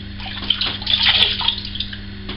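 Hot water pours steadily from a tap, a continuous hissing splash with some bubbling, fairly close and without any voices.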